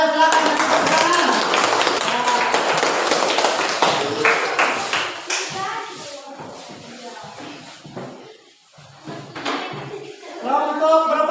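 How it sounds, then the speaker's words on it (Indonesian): A school class claps for a student group, a burst of clapping that thins into scattered claps, shuffling and taps, with voices talking in the room. "Ayo silakan tepuk tangan"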